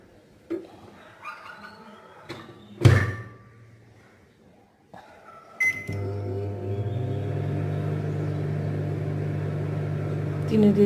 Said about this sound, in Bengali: এখন আমি ওভেন চালিয়ে দেব